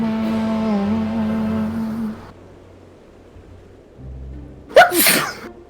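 A single sharp sneeze bursts out near the end, loud and close, following a sustained tonal game-music passage and a stretch of quieter low rumble in Final Fantasy XIV: Shadowbringers.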